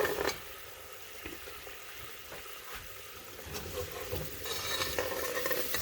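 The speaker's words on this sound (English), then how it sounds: "I'm going to stir it." Homemade coconut oil cooking and being stirred in a hot pot, giving a steady close bubbling sizzle with light scraping strokes throughout, no voices.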